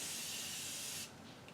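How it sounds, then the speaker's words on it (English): Makeup setting spray mists out in one steady hissing burst for about a second, then cuts off, leaving a faint quiet tail. "I like to do one final setting spray just to make sure that I get everything set."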